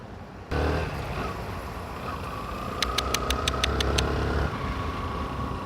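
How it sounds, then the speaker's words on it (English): A Yamaha YBR 125 custom motorcycle in silver idles steadily at close range, a low even engine putter running throughout, with a brief series of sharp ticking clicks partway through. "My bike, I'm driving a Yamaha YBR 125 custom."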